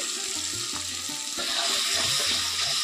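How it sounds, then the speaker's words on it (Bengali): Water is poured into a cooking pan of frying spices with Kashmiri chili for an echor chingri (jackfruit and prawn) dish, producing a continuous close splashing gurgle over a bubbling hiss. "এখানে আরো একটু জল দিয়ে দিচ্ছি।"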